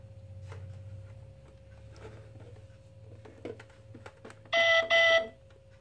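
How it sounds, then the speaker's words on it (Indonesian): Two short, loud electronic beeps from an electronic deposit safe's alarm sound close by near the end, following some quiet clicks and a low hum. "Ini alarm."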